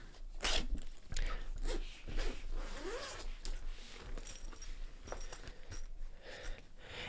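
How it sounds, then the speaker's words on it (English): Backpack zippers pulled open and shut in repeated quick rasping strokes, close and fairly loud, along with a few faint rustles and breaths. "somebody would have to really like unzip half of the backpack to be able to pull something out"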